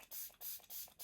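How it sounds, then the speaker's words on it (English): A makeup setting spray mister pumps out a fine mist in four quick, evenly spaced hissing bursts, close and soft. "It's such a nice mist. Like, it is a really, really nice fine spray."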